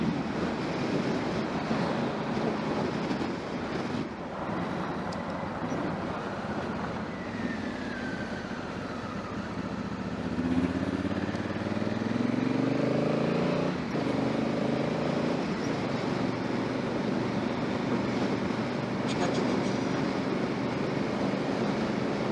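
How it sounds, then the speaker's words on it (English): Wind rushing through a helmet while riding a Honda Africa Twin motorcycle, recorded on a helmet-mounted camera: a loud, steady roar with the engine's drone rising and falling in pitch midway as the bike changes speed. "I'm not even sure how well you'll be able to hear me on the helmet here with the wind blowing"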